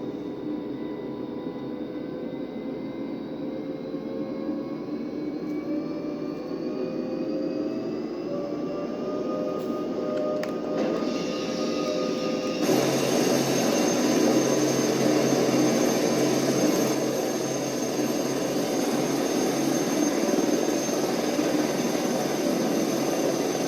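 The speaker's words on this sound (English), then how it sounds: "It's been quite some time since I've flown this helicopter." An SH-2G Super Seasprite helicopter engine in a flight simulator game gives a steady, loud turbine whine and drone, spooling up in pitch and growing noticeably louder and brighter partway through, with no talk.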